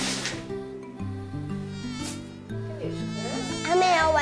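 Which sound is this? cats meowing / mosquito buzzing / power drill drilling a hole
mosquito buzzing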